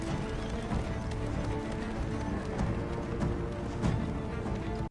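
Armored horses' hooves clip-clop in a steady, dense trot, loud and continuous with scattered sharper knocks, from a House of the Dragon battle scene.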